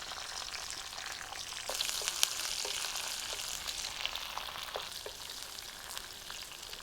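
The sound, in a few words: mustard, ginger, green chilli and garlic sautéing in oil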